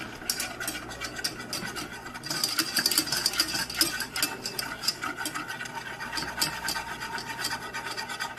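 Roux being stirred and mixed in a pan for a Pit Boss brisket recipe, giving a close, continuous scraping and whisking scratch with brief louder strokes.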